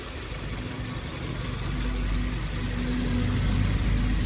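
The engine of a 2009 Kia Carens automatic idles close by in a low, steady rumble with a faint mechanical hum, its level creeping up slightly over the clip, with no talking.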